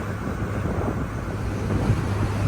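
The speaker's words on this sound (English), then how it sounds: "feeling the sound, or feeling and hearing the sound of the engine" A boat's engine drones low and steady while the hull bounces across waves off Fethiye, Turkey, buried in heavy wind buffeting on the microphone, continuous and loud without speech.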